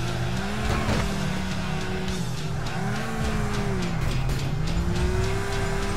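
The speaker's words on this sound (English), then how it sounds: "My Turismo is this awesome Toyota Supra." A Toyota Supra driven in GTA IV roars loudly with wavering engine revs and squealing, skidding tires throughout, close and continuous.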